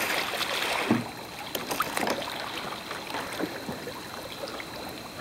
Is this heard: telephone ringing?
no